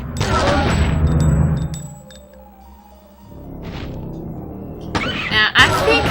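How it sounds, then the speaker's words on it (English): Gunfire aimed at a dinosaur in the video game Dino Crisis: loud, dense bursts of shots open the clip, then a quieter stretch, and another sharp volley near the end, with a voice talking over parts of it. "We're gonna shoot this bitch"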